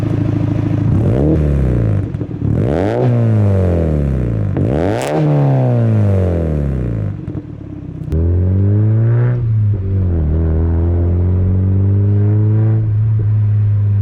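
A 2004 Mazda MX-5 NB sports car drives on back roads, its engine loud and close as it revs up through the gears in rising sweeps, easing off between pulls, with a steady droning cruise near the end.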